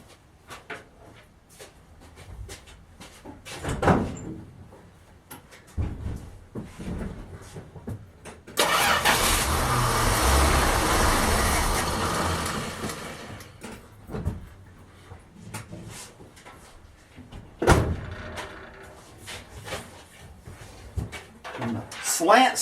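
A Dodge D150 pickup's 225 Slant Six, cold after sitting almost four months, cranks and fires in a loud, rough burst lasting several seconds before cutting out, with knocks and someone talking before and after.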